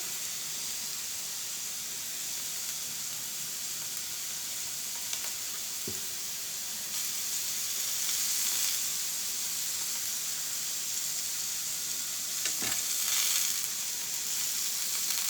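Chicken boti kabab pieces roast in oil, giving a steady, close sizzle that runs throughout and brightens slightly partway, with a couple of brief utensil clicks.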